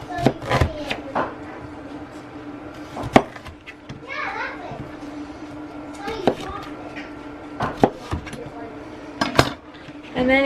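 Metal freeze-dryer trays clatter and clink with sharp scrapes and knocks as scallop squash slices are laid on them, while children chatter in the background of a busy kitchen.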